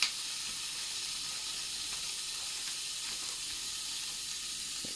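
Minced beef fries in a pan for a cottage pie with a steady, bright sizzle and hiss, close and continuous, with a few small pops and no talking.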